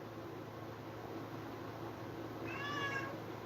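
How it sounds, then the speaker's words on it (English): A single short cat meow rises near the end, moderately close, over a steady background hum of fan or air noise. "That was my cat, Hayes."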